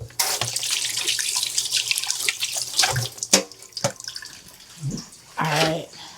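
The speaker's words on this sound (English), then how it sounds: "I'm going to have to wash my hands." Hands being washed under a running kitchen tap after tossing eggplant fries, with uneven water splashing and spattering, some brief drips and bumps, close and moderately loud, with no voices.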